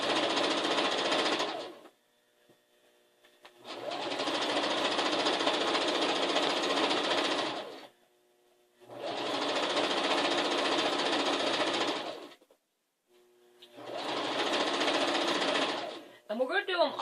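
A sewing machine stitches a quilt in three long runs of rapid, loud chattering, each separated by a short pause, with a brief final burst at the end.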